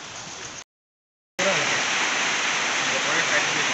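Steady rain pours at the Charaideo Maidam mound site, a dense, loud wash of hiss. It cuts out abruptly into a brief dead-silent gap, then resumes just as strong.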